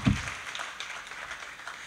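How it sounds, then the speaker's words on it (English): Faint applause from the convocation audience at Bronx Community College for keynote speaker Luis Mendez, a soft, distant patter of many hands after one low thump at the start. "Another round of applause for our keynote speaker"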